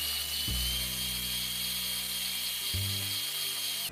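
An electric hand mixer creams softened cream cheese with white sugar, giving a steady high whine with two brief speed or load shifts, close and continuous, with no talking.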